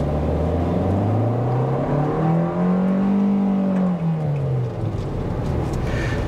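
A 2023 Kia Rio 5 Door with a 120-horsepower engine accelerates from a standstill. The engine note climbs steadily, peaks, then eases back. The droning sound is loud and continuous, with road and cabin noise underneath and no talking.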